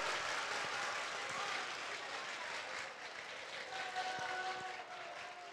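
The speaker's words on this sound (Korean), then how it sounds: "박수!" Large assembly of middle or high school students applauding at a school violence prevention session: sustained, fairly quiet crowd clapping with a dense, even texture that tapers slightly near the end.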